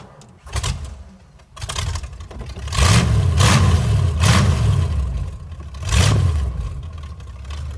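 The V8 engine of a Ford- and ZIL-based hot rod from Volgograd cranks and fires, then revs in several loud, close throttle blips that drop back to a rumbling idle between bursts.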